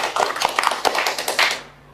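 A short burst of hand clapping from a few people at a religious gathering, uneven claps over about a second and a half before cutting off.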